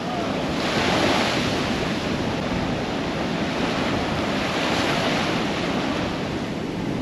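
Strong wind buffets the microphone at a beach as sea surf rolls in, a loud continuous roar of gusts and crashing waves with no clear breaks.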